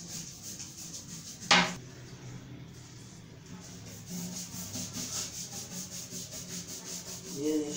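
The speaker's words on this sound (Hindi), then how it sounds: "हल्का सा सर्फ लगा के ब्रश से वो कर रहे हैं" A brush with a little detergent scrubs an item, making a steady rhythmic rubbing that lasts throughout, with a sharp knock partway through and faint speech in the background.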